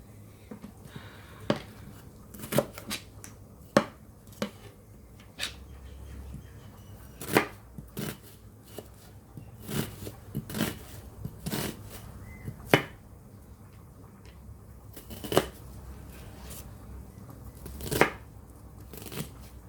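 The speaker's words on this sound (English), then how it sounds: "I'm also cutting up an onion." Knife chopping an onion on a board for a rabbit casserole: a string of sharp, separate cuts in an uneven rhythm, close but soft, over quiet kitchen background.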